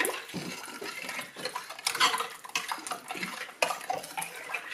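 A spoon stirring a mixture in a dish, clinking and scraping against the sides in irregular strokes, close and moderately loud with wet swishing between the clatters, no voices.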